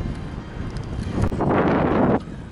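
A headwind rushes over the microphone during a road bicycle ride, a continuous roar that swells into a louder gust for about a second before easing back.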